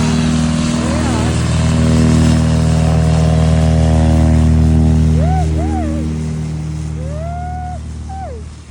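A powerful engine at Harris Hill in New York drives a glider launch, a loud, steady droning rumble that swells and then eases, with voices chattering over it and bird-like chirps.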